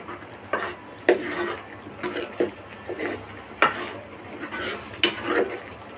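A metal spoon scrapes and clinks against a pot of boiling homemade rose syrup in a steady stirring rhythm, with several sharper knocks against the rim, close by with a faint hum behind.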